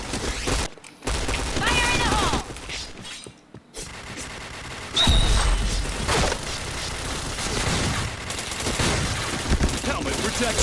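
Rapid gunfire in the Point Blank shooter game, with bursts of rifle shots and booms that come loud and close, broken by brief silent gaps, and a voice talking over much of the action.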